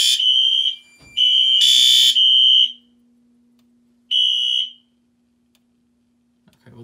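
Wheelock and System Sensor horn/strobe fire alarm horns sound in loud, harsh electronic blasts: a long burst, then a longer overlapping one, a pause and a short final blast, with a faint hum between them.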